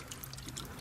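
Rainwater being poured into a Volkswagen Golf, a faint, steady liquid trickle and splash lasting under a second, heard from close by with no talking.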